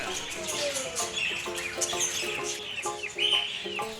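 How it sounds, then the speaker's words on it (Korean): Several kinds of birds chirp and call close by at an animal experience farm, overlapping tweets and squawks with a clucking fowl mixed in, no talking. "꽤 다양한 새들과 동물들이 있네요."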